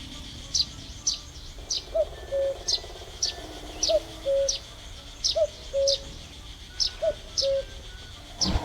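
A cuckoo calls repeatedly in open countryside, its two-note hoots recurring in a steady rhythm at moderate distance, while sharper bird chirps sound over the top throughout; no talking.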